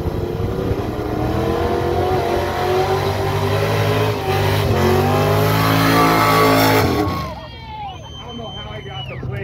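A Six-Pack Super Bee and a 1968 427 Camaro drag race at GCA Days in St. Paul, Nebraska. Loud engines roar and climb for about seven seconds, then drop away abruptly, with voices faintly underneath.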